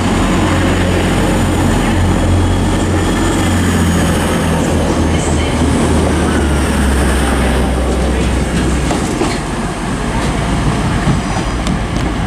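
A Class 175 passenger train at Manchester Piccadilly station gives a loud, continuous rumble of engine and wheels close by, holding steady throughout with a slight easing near the end.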